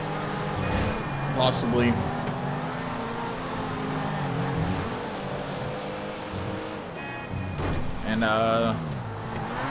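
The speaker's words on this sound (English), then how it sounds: "we'll be able to hear what the car sounds like over it." A steady car engine in Grand Theft Auto V Online hums and revs in the background, rising in pitch at moments, while a person talks over it.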